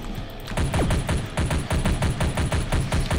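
Rapid bullet fire from an indie video game rattles out in a dense, rhythmic stream of synthetic shots, steady and loud for about three seconds with no talking.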